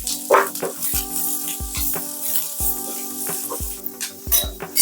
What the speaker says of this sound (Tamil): வெங்காயம் பச்சை மிளகாய் இதெல்லாம் போட்டு நல்லா வதக்கிக்கலாம்